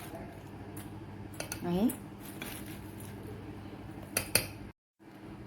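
A spoon clinks and scrapes against a container while cocoa and sugar are stirred into milk, with a few light metallic taps close by under a voice.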